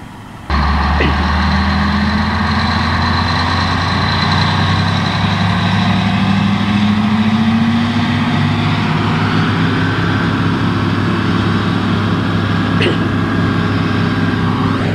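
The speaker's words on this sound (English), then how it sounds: "A truck just came in with the trailer, and this whole machine does everything." A truck hauling a trailer rolls into a timber harvesting operation. Its heavy diesel engine kicks in abruptly and keeps up a loud, steady low rumble, with a slowly rising tone and a faint hiss near the end.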